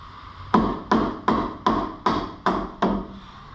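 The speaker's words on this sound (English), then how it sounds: "Let's go ahead and tap the alignment bar down." A hammer taps an alignment bar down during a truck coil lift install on a 2006 Mega Cab, seven sharp metallic strikes at an even, steady pace, close and clear with no talking.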